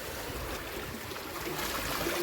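Rising sea water washes against the rock beneath an ancient seaside temple, a continuous rushing slosh heard up close with no pause.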